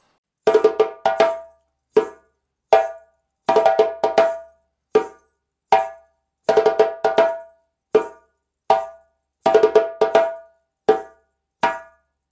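A Guinea-style djembe plays a solo phrase, with sharp slaps and tones in clustered bursts separated by single strokes, a repeating pattern played alone and close up.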